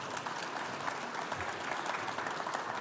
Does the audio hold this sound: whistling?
no